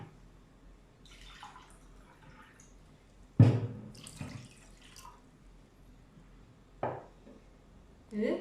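Water is poured from a cup onto about three cups of sugar in a pan to start a syrup, giving a few short splashing pours with quiet gaps between them.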